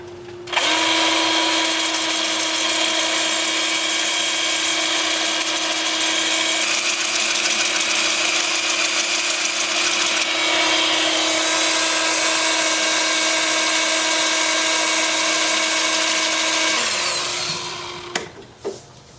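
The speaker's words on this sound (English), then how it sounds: "And then with the lathe spinning in reverse at about 380." A wood lathe spins in reverse at about 380 while a piece is turned and sanded, giving a loud, steady whirring hum with rough abrasive hiss that runs continuously before winding down at the end.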